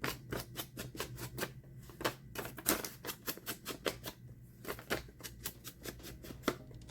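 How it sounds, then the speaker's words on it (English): A paper envelope distressed with black Distress Oxide ink, dabbed by hand in a quick steady run of soft dry taps and brushing pats, close and fairly quiet with brief pauses between bursts. "I'm going to distress this envelope with some black Distress Oxide ink."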